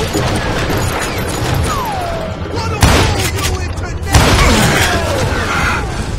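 Gunfire in the Western shooter Call of Juarez Gunslinger, two sharp loud shots at about 2.8 and 4.2 seconds over a busy game soundscape, with a voice talking partway through.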